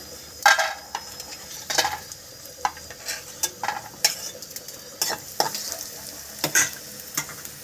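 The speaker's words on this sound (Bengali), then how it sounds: "এর সঙ্গে বড়িটা ভেজে নিচ্ছি" Bori lentil dumplings frying in a pan for a Bengali cauliflower-stem charchari, with a soft steady sizzle and repeated scraping stirs of a spoon against the pan at an uneven rhythm.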